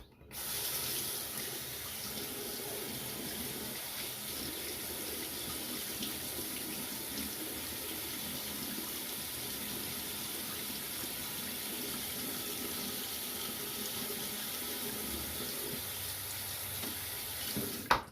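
A bathroom tap runs continuously for a rinse after a shave with a Rocnel Sailor razor, a steady close hiss of water splashing into a sink with small shifts as hands move under the stream.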